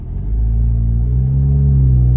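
A Jeep engine fitted with a new Flowmaster high-clearance exhaust rumbles deep and loud up close, swelling slightly in a gentle rev, steady and unbroken, with no talking.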